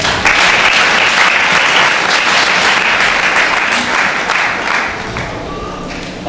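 A church congregation bursts into steady, loud applause that holds for about six seconds, dense and continuous clapping filling the space with no speech over it.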